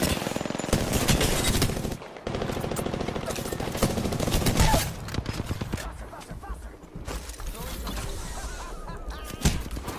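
Gunfire in the video game Apex Legends during a squad fight, with dense bursts of automatic fire and scattered single shots that are loud and close, broken by short pauses.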